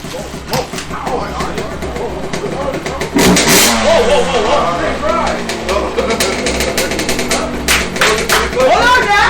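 A dirt bike engine revs inside a bedroom, its pitch rising and falling in bursts beneath loud, excited shouting and talking that fill the whole stretch.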